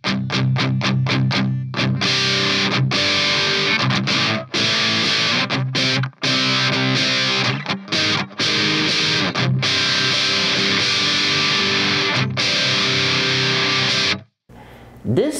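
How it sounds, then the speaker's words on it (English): Electric guitar played through a Digitech DF-7 Distortion Factory pedal set to a classic rock distortion, loud sustained chords with choppy stops and restarts, ending in a brief silence and a last short strum. "This kind of sounds more like a classic rock type of distortion to me."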